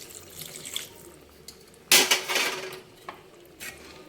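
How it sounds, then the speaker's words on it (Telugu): Water poured into tamarind pulusu simmering in a pan for a tomato egg curry, a short splashing burst in the middle with faint kitchen clatter around it. "కొంచెం వాటర్ కూడా పోసుకుందాం."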